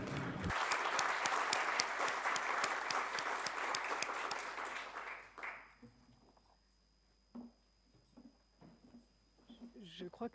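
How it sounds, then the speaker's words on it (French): Warm audience applause at a conference closing session, a dense run of clapping lasting about five seconds before fading out, followed by a quiet room with scattered small noises and a voice speaking. "je demande maintenant un applaudissement très chaleureux de notre part"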